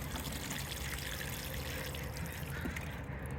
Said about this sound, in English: And we're going to give it a drink of water.